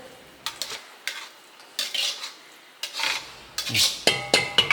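Rice scooped with a large ladle in a home kitchen, a series of metallic scrapes, taps and clinks against a pot, irregular and close, some ringing, no talk.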